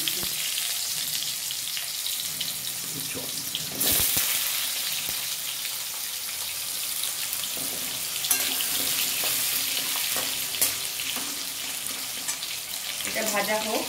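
Potato pieces fry in hot oil in a pan with a steady, close sizzle throughout, broken by a few utensil clanks and stirring scrapes.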